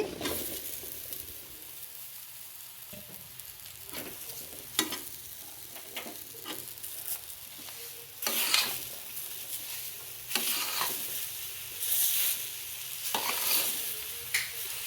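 Apple pieces frying and being stirred in a pan while making semolina laddu, a soft steady sizzle broken by irregular scraping and clinking strokes of the spatula that grow busier and louder toward the end.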